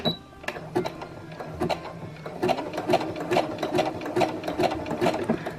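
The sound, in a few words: sewing machine stitching backwards on elastic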